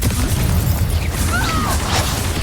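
Confringo blasting curse from a Harry Potter video game duel: a dense, steady rumble of low booms and bursts fills the whole stretch, with a faint rising whoosh partway through and no talk.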